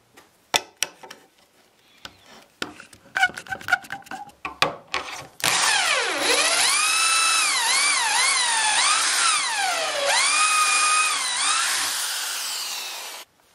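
After a few scattered knocks and clatters, a power drill whines loudly into pallet wood, boring pocket holes in several sustained bursts, its pitch sagging and rising as it bites.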